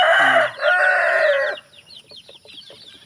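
Chickens and hens on a farm at feeding time, a loud crow-like call up front giving way to a busy run of close, rapid clucks and chatter.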